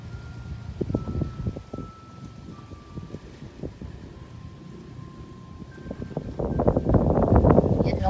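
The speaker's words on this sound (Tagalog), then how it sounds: "Grabe yung hangin." Strong wind gusting against the microphone, building into a loud roaring rush toward the end, with a person talking over the earlier part.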